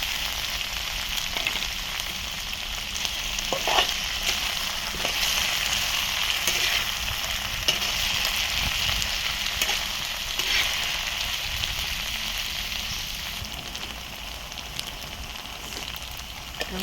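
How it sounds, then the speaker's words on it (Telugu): Okra (bhindi) fries in a pan with a dense, continuous hiss like light rain, holding steady and close throughout with a few faint stirring knocks and no speech. "బెండకాయ అయితే ఇలా వేగేయండి బాగా"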